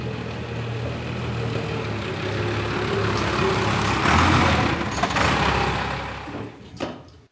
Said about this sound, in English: We're going to pull the front of the truck here into the shop